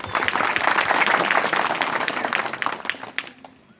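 Loud, dense applause from an audience honouring village elders seated on stage at a rural cultural gathering, steady clapping that fills the whole stretch and thins slightly toward the end.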